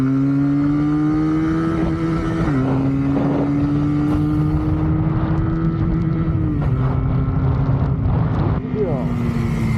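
Regal Raptor Cafe Racer 125 twin-cylinder motorcycle accelerating, its engine note climbing steadily through several gear changes with a brief dip at each shift, loud and close under wind noise, with someone talking over it.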